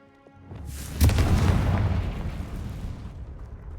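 A Confringo fire spell in Hogwarts Legacy bursts with a single loud, booming blast followed by a rumbling, crackling tail that fades slowly over a few seconds, with no voices.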